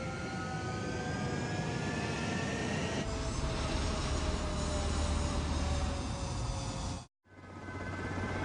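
Jet fighter engine roaring steadily during takeoff in the video game Ace Combat 7, a loud sustained whine and rumble that drops out abruptly near the end.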